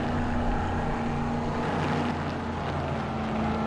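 Racing car engine from the sim game Automobilista 2 droning at a steady pitch, a loud continuous hum with little change in revs over a few seconds.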